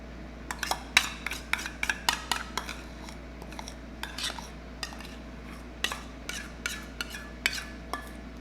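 Dalgona whipped coffee scraped out of a bowl with a utensil in place of a spatula, making repeated sharp clicks and scrapes in irregular bursts, close and fairly loud over a steady low hum.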